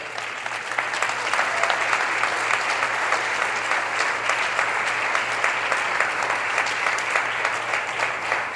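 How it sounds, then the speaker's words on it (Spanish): Loud, sustained applause from a church congregation fills the space, dense clapping continuing steadily without a break. "si va a aplaudir, hágalo fuerte."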